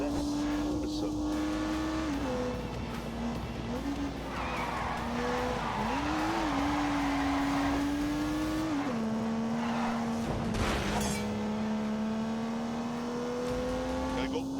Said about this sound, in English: unleashed 365 rampaging horsepowers in the turbocharged 3-litre straight 6